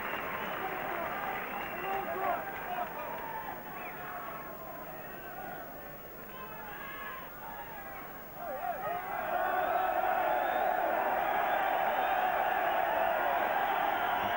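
A football crowd at a European Cup match between Derry City and Benfica groans and murmurs in complaint. The noise swells and dips, then rises into a louder sustained roar, under a commentator's voice.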